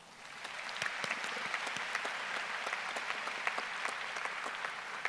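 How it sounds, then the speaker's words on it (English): A crowd claps steadily at a high school graduation, a dense patter of applause rising quickly and holding at full strength throughout. "let's give them a round of applause"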